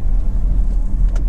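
Honda CR-V 1.6 i-DTEC SR diesel on a road test, a steady low rumble of engine and road noise from inside the cabin, continuous and fairly loud with no talk.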